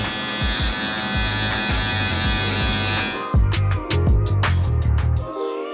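Electric hair clippers fitted with a number 8 guard, lever closed, buzz steadily up close while cutting hair on the side of the head. The drone shifts in pitch partway through, with brief bursts and rustles as the blade grazes upward.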